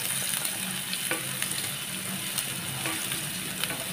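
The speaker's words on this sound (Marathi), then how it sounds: "जिरे मोहरी तडतडली की त्यात कांदा घालायचा." Finely chopped onion stirred into hot oil with crackling cumin and mustard seeds, a steady close sizzle and frying hiss with soft intermittent scraping from stirring, no voices.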